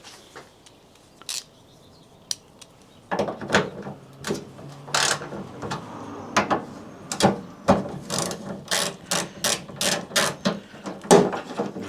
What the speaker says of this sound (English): So ratchet handle. We need a ratchet handle.